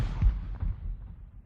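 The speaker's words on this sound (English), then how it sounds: "let's get that cannon fire going" Cannon fire plays as a sound effect on a military-themed podcast, with two deep, muffled booms about half a second apart and a rumbling decay.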